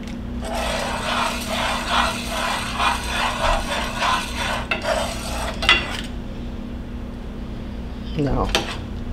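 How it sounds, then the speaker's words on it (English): A spoon stirs a simmering balsamic shrimp sauce in a pan, giving soft scrapes and clinks beneath a person talking. "Just stir that around some. And then let it simmer for just a couple of minutes."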